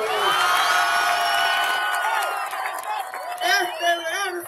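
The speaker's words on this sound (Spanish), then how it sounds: "Mil gracias por sus aplausos." Festival audience in Barrancas cheering loudly, with whoops and shouts rising over a dense crowd roar that eases slightly toward the end, with no clear speech.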